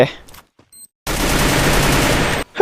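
A grenade explosion in the Free Fire battle royale game: after a short gap, a loud dense burst of blast and crackling debris lasting over a second, cutting off abruptly, with game sounds before it.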